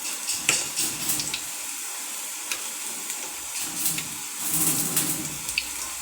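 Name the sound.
vazhakkai (plantain) bajji batter frying in hot oil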